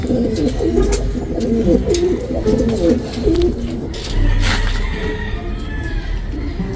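Racing pigeons, a new batch of rare off-color young birds, coo in soft repeated low rolls throughout, with some faint background chatter and noise.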